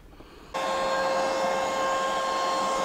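A 50 PSI dual-motor electric paddle board pump kicks on after a brief quiet moment, then blows air with a loud, steady whine and rushing roar that holds evenly to the end.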